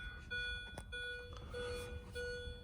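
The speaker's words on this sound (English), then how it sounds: "Not sure why this is beeping right now." A 2005 Mini Cooper's electronics beep steadily at an even pace with the key out of the ignition, fairly quiet, against a low background hum.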